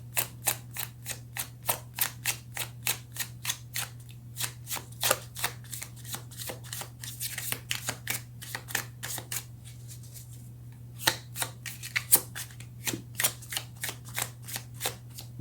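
Tarot cards shuffled steadily for about fifteen seconds, a dense rhythm of crisp papery riffles and flutters with short pauses, close and clear over a constant low hum, with no talking.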